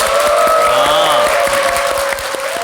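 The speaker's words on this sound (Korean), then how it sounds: "박수 한번 보내드릴게요." A talk show's studio audience claps in a steady patter under loud sustained musical tones that partly mask the applause.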